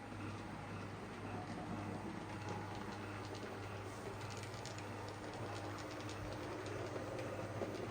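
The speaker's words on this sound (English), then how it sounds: "let's run some more trains" A model railway train runs along a layout with a steady, low mechanical rumble and faint clicking of wheels over track joints, continuous and quiet throughout, with no voices.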